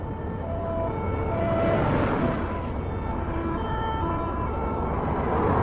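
An ambulance siren wails steadily, loud and close, over a continuous road and traffic rumble, holding without a break for several seconds.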